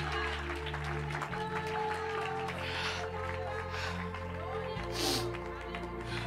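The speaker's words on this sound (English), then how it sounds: "Give the Lord a round of applause." A church congregation applauds over steady keyboard music, the clapping soft and continuous beneath the tones.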